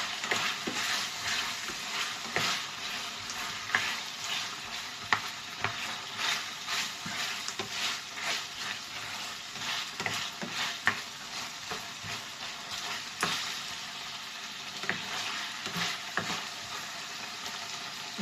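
Meat frying for adobo in a pan with almost no oil, a steady close sizzle with frequent stirring scrapes and clinks throughout, no talking.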